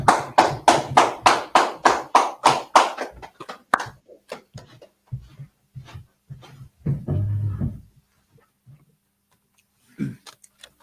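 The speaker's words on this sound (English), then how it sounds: "Clap it up." A burst of audience clapping at a gathering in Harlem, New York, starting as strong rhythmic claps that thin into scattered, fading hand claps, followed by quiet pauses and a few faint taps.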